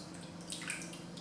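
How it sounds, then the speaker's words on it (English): Hot water poured over small tea cups to warm them, a faint, steady trickle and splash of liquid running across porcelain, brief and soft. "pour the hot water on top"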